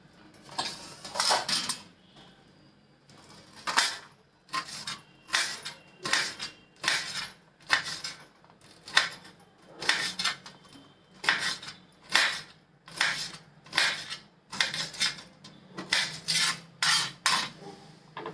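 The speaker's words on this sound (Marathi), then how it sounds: "आता मिरच्या घेतल्यात 5-6, त्या पण चिरून घेते मिरच्या।" A knife chops green chillies on a board, a long run of sharp rapid taps grouped into short bursts with brief pauses between, close and crisp with no talking.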